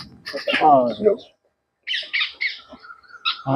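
A pet parrot, recently freed from a cage, gives harsh squawks and calls in two bursts separated by a brief pause, close to the microphone, with people talking around it.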